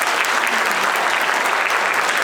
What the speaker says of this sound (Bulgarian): Вашите аплодисменти за нея.